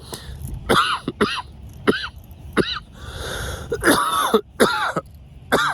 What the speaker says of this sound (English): the coughing is saying something.